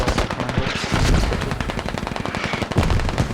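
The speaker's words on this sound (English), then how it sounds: "Mortars have now been targeted" In the military shooter game Squad, dense gunfire and mortar fire rattle loudly in rapid bursts, with overlapping shots and heavier thuds packed tightly together.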